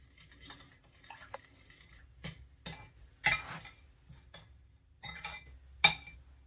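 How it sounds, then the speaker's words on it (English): Shea butter deodorant mixture being stirred in a bowl, with a run of scraping and clinking strokes that come in irregular bursts, close by and fairly quiet, with no one talking. "I'm gonna mix it up here."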